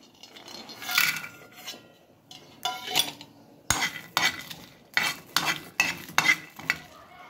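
Chillies fry in a pan while being stirred, giving soft sizzling beneath a run of sharp, close metallic scrapes and clinks from the utensil against the pan, coming in quick rhythmic bursts.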